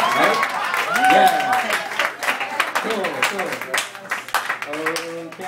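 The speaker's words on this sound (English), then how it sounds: "Yeah, clap it up for me on the mic, right?" An audience at Chris' Jazz Cafe claps and cheers for a performer, a loud burst of applause that thins into scattered claps, with talking and laughter mixed in throughout.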